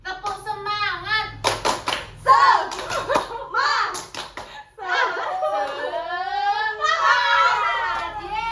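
Children clap out a rhythmic classroom chant, with bursts of sharp hand claps between sung and spoken phrases from young voices, the chanting taking over in the second half.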